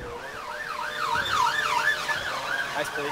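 Wailing siren from a fire engine leaving a nearby fire station, rising and falling in a steady sweeping pattern, fairly close and loud throughout with no one talking.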